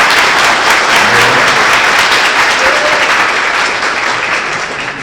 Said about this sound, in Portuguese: Uma salva de palmas para Eliel Baroni.